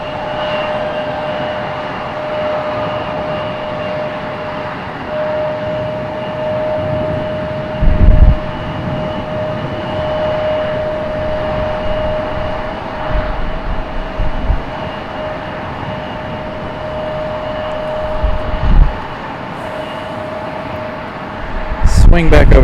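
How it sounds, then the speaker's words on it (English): A Delta Boeing 757 jet departs Raleigh-Durham International Airport, a steady broad engine roar with a sustained whine heard from a distance outdoors, with a few louder low thumps along the way and occasional talk. "Here we go, 757 turn and burn from Delta."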